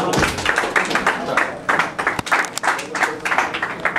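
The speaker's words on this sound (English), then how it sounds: "The monumental applause here for your show, for your set" Loud, dense audience applause after a live orchestra's set in New England, a sustained wash of many hands clapping with a few sharper claps standing out, close and continuous throughout.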